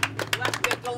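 Spectators at a time station along the Badwater 135 ultramarathon clap and cheer for a passing runner, a handful of close, sharp claps in an uneven rhythm with voices in between.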